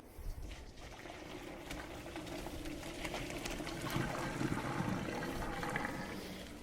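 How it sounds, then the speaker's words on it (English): Water from steamed potatoes pours and gurgles as they are drained, a steady, soft splashing rush that swells slightly midway and continues without talk. "The potatoes are going to be drained."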